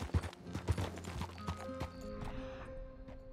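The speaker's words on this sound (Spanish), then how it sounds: "El caballo se asustó" A startled horse in the video game Red Dead Redemption 2, with hooves clip-clopping in a quick, uneven burst and a short whinny, close and fairly loud with no talk.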